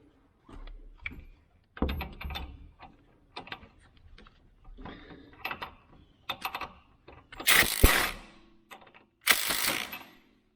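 Lock nut being ratcheted onto a C3 Corvette shock absorber: short bursts of quick metallic clicking and mechanical tool action, close and fairly quiet, with two louder harsher bursts near the end.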